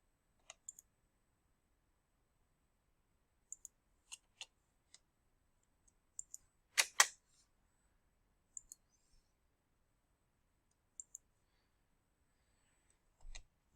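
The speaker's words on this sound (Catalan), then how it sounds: "fem clic." Sparse, faint mouse clicks on a computer while marking a location on a map in a calendar app, single and paired taps spread across a quiet stretch, with one louder burst near the middle.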